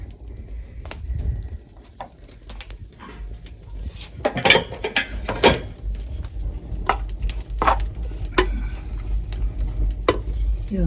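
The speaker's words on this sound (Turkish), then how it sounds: "Şurada yağı biraz kavrulsun. Burada da etlerimiz" Fat and meat frying in a pan over a wood-fired village stove: steady sizzle with scraping and clattering of a utensil against the pan, louder bursts of stirring midway, and some background farmyard noise.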